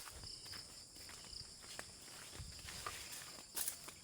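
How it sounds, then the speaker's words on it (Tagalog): Footsteps on a walking path to a vegetable-garden workplace, soft and faint, with steady outdoor ambience and insect buzz behind them. "Ayan, naglalakad lang po tayo."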